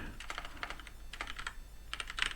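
Quick bursts of typing on a computer keyboard, close and soft, with clusters of rapid key clicks separated by brief pauses.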